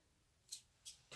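Three short, crisp snips of scissors cutting the tip off a plastic pipette, used for gold resin art on chipboard, spaced apart and close up with a quiet background between them.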